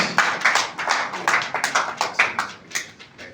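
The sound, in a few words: audience applause for the speaker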